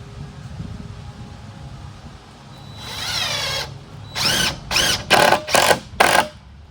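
A power drill drives 3-inch screws into wooden sawhorse boards: a rising whine as one screw goes in, then five short, loud, evenly spaced bursts up close, with no voices.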